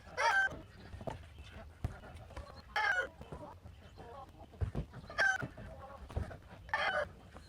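Backyard chickens in a garden clucking and crowing in several short bursts, fairly close, with quiet gaps and some outdoor noise between them.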